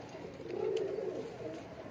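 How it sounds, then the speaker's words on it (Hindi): Pigeon cooing, a low soft coo that swells in the middle and fades, close and alone without talk. "ये दोस्तों परफेक्ट कबूतर है"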